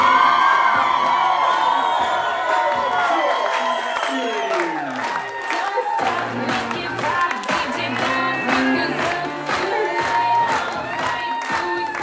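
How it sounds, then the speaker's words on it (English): Wedding guests at a country club reception cheering, whooping and clapping for the newlyweds, a loud crowd roar with shouts alongside a DJ's amplified voice. "please put your hands together for our newlyweds, the new Mr. and Mrs. David Ryan Cousineau"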